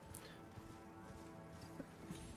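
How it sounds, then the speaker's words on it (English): A horse's hooves clip-clop at a steady trot while riding in Elden Ring, faint and running under a dense mix of game ambience and music. "I don't remember if Margit kicks you off your horse and you can just ride past him."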